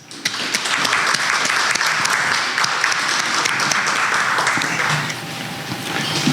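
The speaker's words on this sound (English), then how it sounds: "So may I just ask all of you to give a big applause to the authors, please." Loud, dense applause from the audience at a book launch for a research chair in spatial analysis and city planning, steady many-handed clapping sustained for about five seconds before easing slightly.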